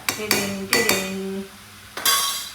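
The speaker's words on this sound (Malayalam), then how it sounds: "നല്ലവണ്ണം ഇളക്കി വെച്ചിട്ട് അടുക്കളയിൽ പാചകം ചെയ്യുന്നു എന്നുള്ളൊരു സിഗ്നലാണ്" Metal utensils clang against a cooking pot in a home kitchen while food is stirred, several sharp ringing knocks in uneven bursts with quiet pauses between, close and moderately loud.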